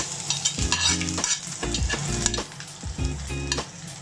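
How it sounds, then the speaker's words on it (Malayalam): Mustard seeds, ginger and garlic fry in hot oil for a Kerala fish molee, a close crackling sizzle broken by repeated scraping stirs with a spoon against the pan. "കടുകിട്ട് പൊട്ട് ഇഞ്ചി വെളുത്തുള്ളി"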